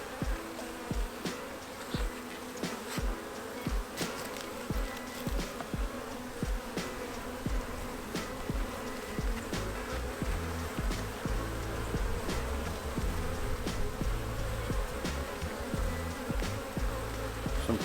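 Honey bees in a Minnesota hive drone in a dense, continuous buzz during an open inspection, close and steady throughout with individual bees flitting past, no voices.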